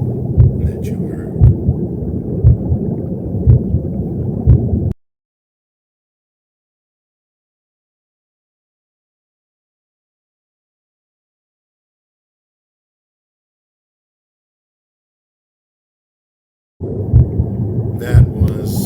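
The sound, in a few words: recording of sounds inside the womb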